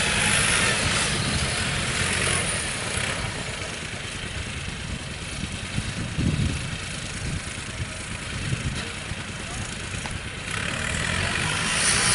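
A dump truck hauling dirt runs with a steady idling engine rumble, close and continuous, with a broad roar that dips slightly mid-way and swells again near the end.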